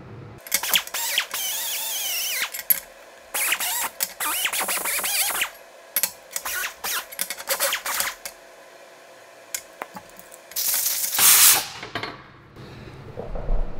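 An abrasive wheel on a power tool cleans metal before TIG welding. Repeated bursts of harsh, hissing grinding and scraping come in short, uneven passes separated by near silence.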